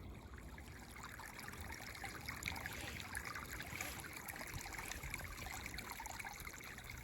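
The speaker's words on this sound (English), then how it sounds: "A good time to throw in some healing water sounds right there." A brook on a Connecticut hiking trail flows and trickles in a soft, steady, unbroken wash of water, faint and close.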